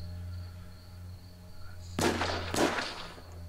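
Two sharp gunshots from the zombie survival shooter The WarZ crack about half a second apart over a quiet humming background, each with a short ringing tail.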